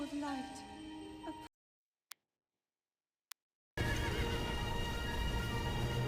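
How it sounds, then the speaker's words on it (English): A horse whinnies loudly in the video game Breath of the Wild, then near-silence broken by two sharp clicks, followed by a dense burst of game noise. "My horse Bluey's with me, I was so happy."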